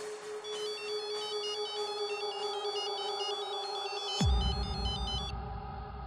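A phone rings after a call is placed, with a repeating electronic ringtone pattern in a steady loop. Near the end a low thump breaks in.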